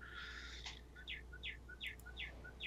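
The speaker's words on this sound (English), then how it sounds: "the chirping was good" Small birds chirp faintly in a quiet outdoor setting, a steady run of short, evenly spaced high calls repeated about every third of a second over a low background hum.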